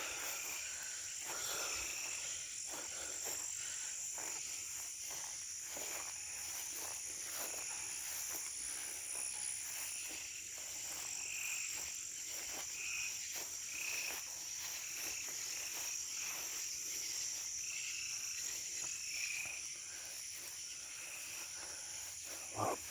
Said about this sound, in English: a lot of bugs out.